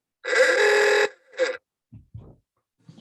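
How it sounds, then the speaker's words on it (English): A phone ringtone chimes loudly during an online video meeting, one long electronic tone burst followed by a shorter one, then faint low thumps and silence. "I think that was a ringtone"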